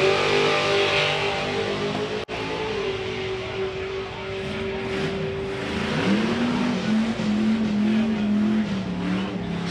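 A drag racing car makes a full pass at a nostalgia drag strip event, its engine roaring loud and continuous and pitching up as it pulls down the track.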